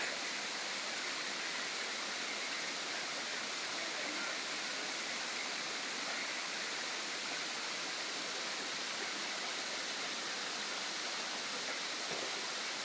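Water rushes steadily from a mountain water-supply pipe being repaired, a constant dense hiss of flowing water, even and unbroken at moderate distance, with no voices.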